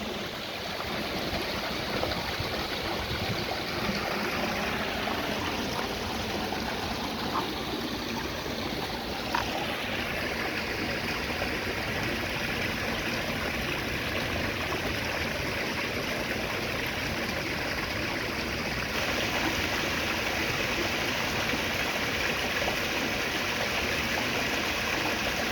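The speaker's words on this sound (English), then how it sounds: "So this is the river here, all the river." Joes River in St. Joseph, Barbados, flowing steadily with a continuous broad rushing and babbling wash, close and even throughout with no voices.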